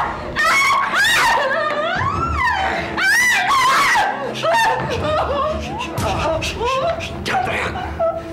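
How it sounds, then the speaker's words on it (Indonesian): A woman screams and wails repeatedly in a tense confrontation, loud and close, with her cries rising and falling over several seconds amid sobbing breaths. "Jangan teriak."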